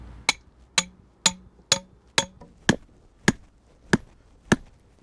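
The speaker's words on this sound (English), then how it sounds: "Now we're going to drive our anchor post into the ground" Anchor post being driven into the ground for a framed double zipper end wall, nine sharp metallic hammer blows in a steady rhythm, close and distinct against near silence.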